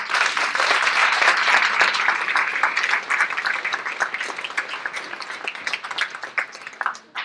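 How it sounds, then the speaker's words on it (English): An audience applauds at a 2019 Italian junior honor society induction ceremony, steady dense clapping from a crowd that continues for several seconds, then thins out and becomes more scattered toward the end. "Let's give them a round of applause."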